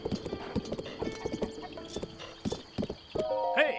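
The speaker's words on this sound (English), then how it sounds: "You must soothe the horse." Horse hooves clip-clop in Zelda: Breath of the Wild, a rhythmic run of close, distinct hoofbeats with a few pauses, followed by a whinny and brighter game effects near the end.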